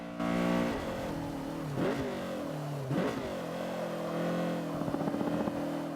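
Honda Civic CRX Mugen race car in Forza 5 accelerating at full throttle, a loud steady engine drone climbing in pitch with brief dips at gear changes and a rough burst near the end.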